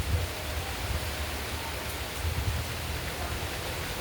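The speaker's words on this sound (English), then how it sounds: "So now we can say rainy season begun." Steady rain falls at the start of the rainy season, a constant broadband hiss with low patters that stays even and fairly close throughout, with no talking.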